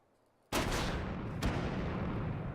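A firearm fires in the VR shooting game H3VR, in its tutorial area: two sharp, loud, close shots about a second apart, each followed by a long booming decay, with no one talking.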